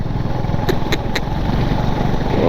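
A motorcycle engine drones steadily while riding on a long mountain road trip, a continuous close, rumbling hum with wind rush and no speech.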